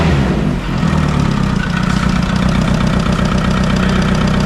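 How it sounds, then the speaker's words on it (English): A Seat Ibiza engine idling loudly with a rapid, ragged puffing and ticking from an exhaust blow, steady and close up, no voices. "This is an exhaust blow"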